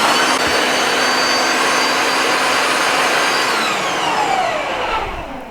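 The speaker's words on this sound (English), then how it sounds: "I'm just cutting the liver into chunks that will go through the mincer easily" Meat mincer with a coarse plate grinding chunks of pork liver, a loud continuous motor whir and grind close by that slowly winds down at the end.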